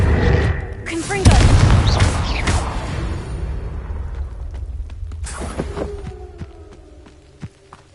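Confringo fire spells explode in Hogwarts Legacy, a loud booming blast with rumbling tail, then further lighter bursts and crackles fading away, with a voice shouting spell names over the action.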